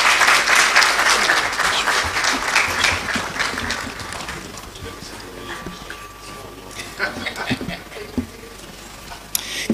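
Audience applauds the minister at the launch of a law alumni association and public lecture, a dense burst of clapping that gradually thins and fades out, with a few late scattered claps.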